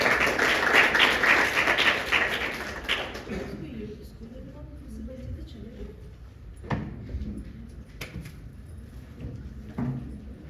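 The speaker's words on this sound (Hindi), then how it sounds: "मैं चाहूंगा कि तालियों से सम्मान करें।" Loud, dense applause from an audience at a Hindi children's poetry recital stage event, roaring for about three seconds, then thinning to scattered claps and taps under a murmuring crowd.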